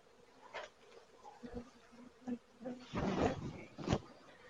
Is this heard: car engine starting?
no